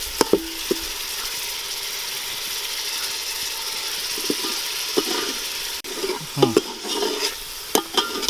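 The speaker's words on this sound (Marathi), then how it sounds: "मसाला चांगला भाजून घ्यायचा. हे चांगलं भाजून घ्यायचं कडकडीत." Masala paste of garlic, coconut, onion, tomato and coriander roasting in a pan for a village-style chicken rassa, a low steady sizzle with occasional scrapes and knocks of a spoon, busier toward the end.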